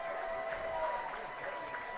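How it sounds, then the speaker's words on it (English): Crowd applause and scattered cheering at a high school football game, Louisa at Massaponax, for a player who got back up after an injury; steady, fairly distant clapping with a faint whistle-like tone and some voices mixed in. "Let's give him a round of applause."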